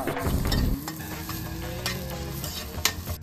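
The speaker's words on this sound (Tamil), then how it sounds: "சூப்பராக வதங்குதுப்பா" Vegetables sautéing in a hot pan, with a loud sizzle, stirring scrapes and a few light clinks of the utensil, close up and continuous with no speech.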